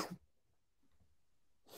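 A single sharp sneeze right at the start, close and loud, followed by near silence before a brief burst of noise at the end.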